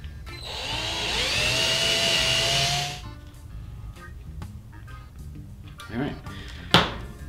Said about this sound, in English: So the first thing I'm gonna do is just drill the holes in these.